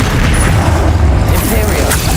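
A Confringo spell blast in Hogwarts Legacy, a loud, dense booming rumble sustained through the moment with heavy low-end, alongside talk and battle noise.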